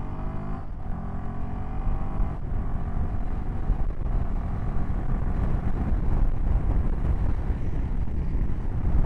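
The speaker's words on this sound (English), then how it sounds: "I'm getting a lot of wind noise, but I'm getting no blast." Wind roars steadily on a 2024 Royal Enfield Himalayan 450 motorcycle at road speed near 70 mph, a loud broad rush with engine drone underneath and no talk.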